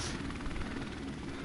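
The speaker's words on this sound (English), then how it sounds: "Friendly helicopter on the way." Friendly helicopter support arriving in Call of Duty: Modern Warfare Remastered, a steady, dense rotor-and-engine drone that holds at an even level throughout the short stretch.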